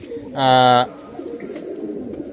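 A Pilanka pigeon gives one loud, close coo lasting about half a second, with a steady harmonic tone, over quiet room background.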